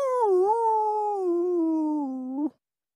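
A human voice imitates a beagle howling deep in the woods, a single sustained, wavering howl of about two and a half seconds that ends abruptly.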